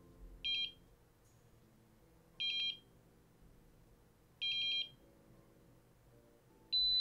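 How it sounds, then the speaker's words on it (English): A homemade capacitor mist maker gives electronic beeps to signal its selected mode: three short, high, clear beeps about two seconds apart, then a fourth starting at the end, against a quiet low hum. "we make a beep, 2 beeps, 3 and 4 beeps, and a longer beep when the generator is off"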